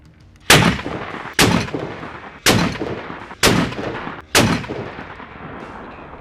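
A rifle fitted with a three-port muzzle brake fires five loud, sharp shots outdoors, roughly one per second. Each blast carries a short decaying echo tail, and no one speaks.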